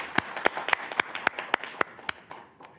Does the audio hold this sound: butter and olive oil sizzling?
no